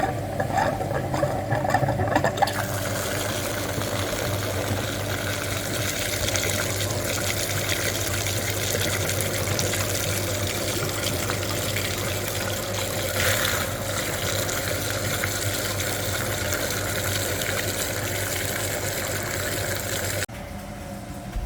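A cooling system flushing machine connected to the heater core of a VW Passat NMS 2.5 hums and pumps liquid steadily for about twenty seconds, with a constant watery churning drone and no talking, stopping abruptly near the end.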